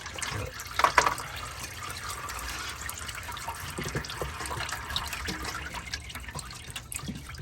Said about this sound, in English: you can see there's fluid dripping